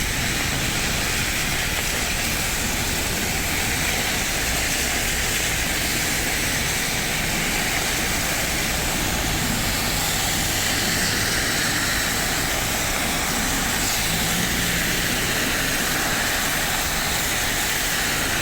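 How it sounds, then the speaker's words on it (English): Trucks drive past through floodwater at a roundabout, making a loud and continuous wash of rushing spray and engine roar that holds steady for the whole stretch. "we've got trucks coming as well"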